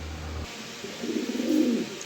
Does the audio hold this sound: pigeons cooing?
yes